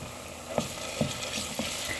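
Onions and a spoonful of tomato paste fry in a pan for lentil soup, a steady close sizzle broken by regular scrapes and stirs of a spoon.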